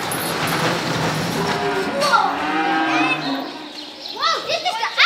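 Cows lowing on a farm during a school outdoor day, a few close moos rising and falling over busy children's voices and chatter.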